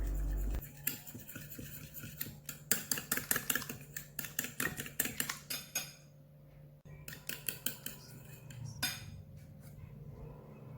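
Spoon or whisk stirring a flour batter dip for banana cheese balls in a bowl, a quick run of clinking taps against the side, a short pause, then another round of brisk clicking, close and fairly quiet.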